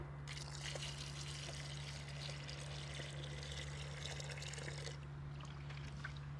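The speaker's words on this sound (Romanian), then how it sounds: "Iar peste o să adaug puțină apă din baltă." Pond water poured into a carp bait mix, a faint steady trickle and splash over a constant low hum, heard alone.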